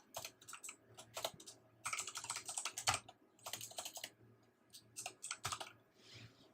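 Rapid bursts of keystrokes on a computer keyboard while editing a name in vCenter HA setup, clustered clicks in several quick runs separated by short pauses, close and fairly quiet with no talking.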